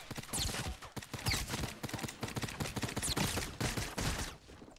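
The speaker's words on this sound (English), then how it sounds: "They're shooting at me." Rapid bursts of video game gunfire, loud and dense, crackle through a tense squad firefight, with volleys of shots layered close together and a pistol in play.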